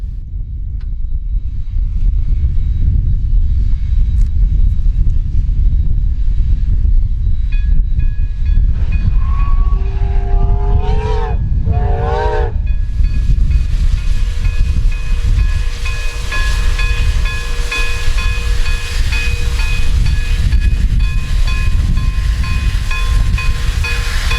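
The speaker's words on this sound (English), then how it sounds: "railroad's matching Alco FPA-4s built by the Montreal Locomotive Works, to pass by" Alco FPA-4 streamlined cab-unit diesel locomotives built by the Montreal Locomotive Works roll past with a loud, steady rumble and wheel noise, while a horn sounds in a few short blasts partway through.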